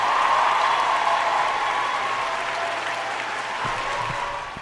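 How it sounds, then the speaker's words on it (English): A round of applause rises at once and stays broad and fairly loud, slowly thinning toward the end, with a steady tonal hum running underneath and no talking over it. "Where's my round of applause at?"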